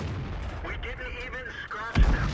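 Tank cannon fire in World of Tanks, with the M56 Scorpion in play: a steady game rumble under a voice talking, then a single heavy boom lands near the end.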